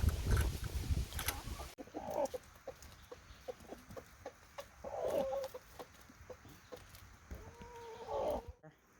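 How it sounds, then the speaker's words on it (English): Chickens being fed kale cluck and murmur close by in short bursts, with a rougher stretch of noise at the start and low rustling throughout. "now I'm going to give some of our community chickens some kale."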